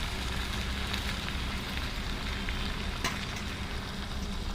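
A spice paste with nut and poppy seed paste fries hard in oil in a pan, giving a loud, steady, dense sizzle that runs unbroken throughout, with one brief sharper crackle partway through.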